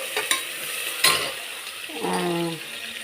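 Onions, green chillies and curry leaves frying in a pan for pepper chicken gravy, with a soft sizzle and a few scraping stirs of a spoon against the pan, close and fairly quiet.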